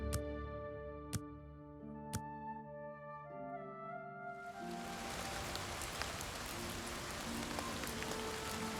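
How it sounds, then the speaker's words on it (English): Steady rain hiss in Oblivion Remastered fills the scene after a few sharp ticks and sustained musical tones, the downpour dense and constant through the end. "Rain."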